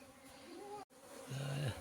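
Honeybees buzzing as a runaway swarm is gathered back into a hive by hand, a steady close drone with a brief dropout and a louder, lower hum swelling near the end.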